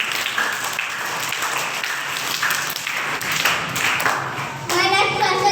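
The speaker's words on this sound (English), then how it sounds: "Correct answer clap for Team B." Children clap for a team at a school quiz competition, a steady mass of hand claps that swells stronger near the end, with young voices talking over it.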